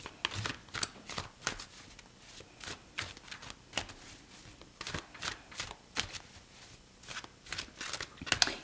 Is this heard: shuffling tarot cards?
yes